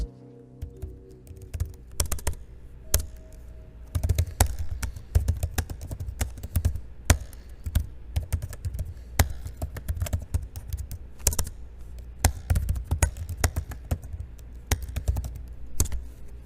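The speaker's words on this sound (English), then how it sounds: "move over to both the typing test for the keyboard" Rapid typing on the keyboard of a budget gaming laptop, a dense run of light clicky keystrokes up close and fairly quiet, with no talking.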